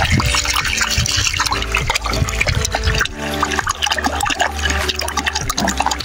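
Fresh water in Bhutan gushes loudly from close by, a dense continuous splashing and rushing flow with no pauses.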